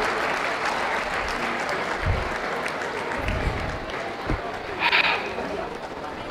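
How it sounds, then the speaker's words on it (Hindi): Loud, sustained applause fills a seminar hall as the audience claps steadily throughout, with a few louder thumps and scattered voices mixed in. "जोरदार ताली।"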